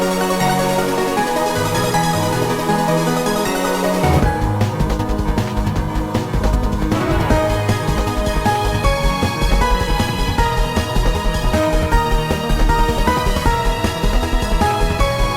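Music from the Mario & Luigi: Bowser's Inside Story video game plays loud and dense, a sustained intro that breaks into a driving, full-band boss theme with strong bass and rapid rhythmic hits.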